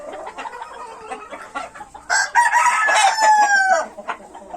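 A small backyard flock of five hens and one rooster, clucking close by before a loud crow rings out and stretches on, with a few more clucks trailing after.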